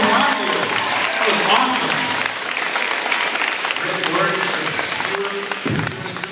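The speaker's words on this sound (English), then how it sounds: "How about another big round of applause?" Warm audience applause for a middle school 7th and 8th grade winter winds student band at a morning meeting, steady clapping that tapers slightly toward the end, with a few voices and cheers mixed in.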